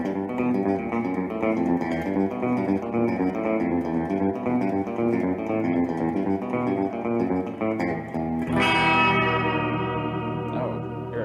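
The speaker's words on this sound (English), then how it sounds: "You got a room, spring, and hall, a very easy to script reverb pedal." Electric guitar played through a T-Rex reverb pedal on its spring setting, sustained chords and notes washed in springy echo and drip, steady and loud with no voices, ending on a ringing strummed chord that decays into the reverb tail.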